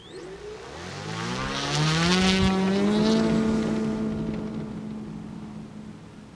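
An electric model car running on a track, its motor whine climbing in pitch and then holding a steady, loud, close tone that fades slightly toward the end.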